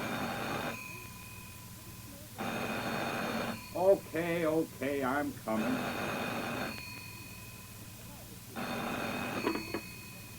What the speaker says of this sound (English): About 3 a.m., the phone rang.